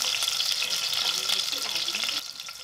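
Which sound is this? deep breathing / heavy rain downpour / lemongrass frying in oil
lemongrass frying in oil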